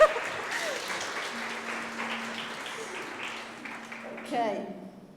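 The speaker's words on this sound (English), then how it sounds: "Can I have an applause, please?" Audience applause at a tech conference, sustained clapping from a sizeable crowd in a hall, fairly distant and soft, fading toward the end with a brief louder swell.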